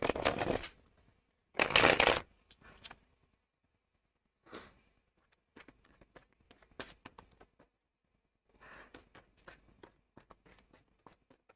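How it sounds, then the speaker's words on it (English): Tarot cards being shuffled by hand in several separate bursts of crisp riffling and soft slapping, close and fairly loud at first, then quieter intermittent flicks with quiet gaps between. "Let's shuffle and see what Aries have ahead of them."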